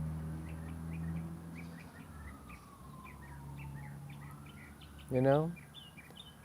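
Small birds chirp outdoors in short, repeated tweets, fairly faint and scattered through the background, with a low steady hum underneath and a brief louder call near the end; a voice speaks briefly.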